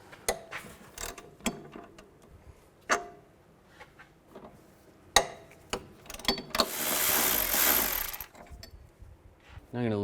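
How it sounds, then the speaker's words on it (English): A hand ratchet with a 13mm socket loosens the lower shock bolts on a 2003–2007 Cadillac CTS front suspension, giving sharp clicking bursts scattered through the clip and a louder stretch of rapid ratcheting near the end. "I'm going to remove these two shock bolts, the two lower shock bolts, this one and the one on the back side as well."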